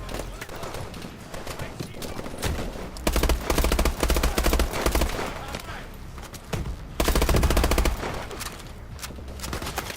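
Rapid automatic gunfire bursts in the combat game Advanced Warfare, loud and close, with heavier volleys and a steady background clatter throughout while a player talks over the shooting.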